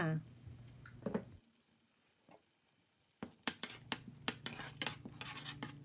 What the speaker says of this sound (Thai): แล้วก็คนกะทิกับพริกแกงนะคะ ใช้เวลาในการผัดพริกแกงหนึ่งนาทีค่ะ